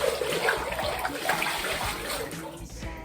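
Water sloshes and splashes as clothes are rinsed by hand in a bucket, a steady close wet churning with irregular swishes over about three seconds.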